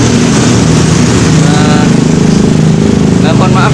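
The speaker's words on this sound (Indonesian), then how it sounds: "tadi banyak lalu lalang mobil dan motor" Traffic noise at a car wash with a motorcycle engine droning loudly nearby, a steady mechanical rumble with cars and motorcycles passing under a continuous hum.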